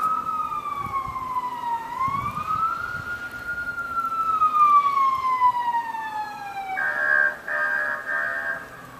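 A police car siren wails through a snowstorm, rising and falling in long sweeps and then switching to a faster yelp near the end, fairly close over the low rumble of traffic.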